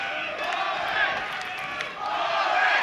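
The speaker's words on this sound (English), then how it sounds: "there's a home crowd brewing now, cheering Baldacchino." Home crowd roars and cheers throughout an amateur boxing bout, a dense, sustained wash of voices swelling loudly near the end.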